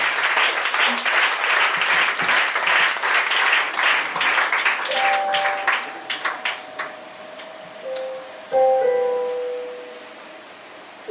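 A church vigil congregation applauds the Lord with sustained, loud clapping that thins into scattered claps, and a few tonal notes ring out near the end.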